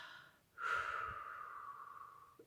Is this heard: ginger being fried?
no